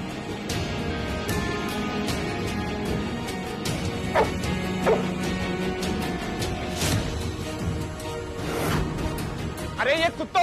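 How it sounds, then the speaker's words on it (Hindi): A dog barks and yips in short, repeated bursts inside a household scene of a Hindi TV drama, sounding moderately close amid people talking and background noise. "अरे ये किसका कुत्ता है? भगाओ उसको यहाँ से।"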